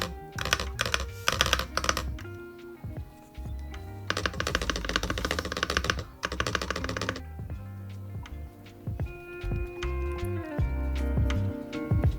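Rapid bursts of typing on a computer keyboard in an office, loud clattering runs of keystrokes broken by short pauses and scattered single clicks, with no voices.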